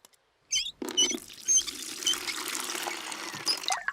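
Water pours into a bucket in a cartoon, a splashing trickling stream that runs for about three seconds after a short clatter, with no talk.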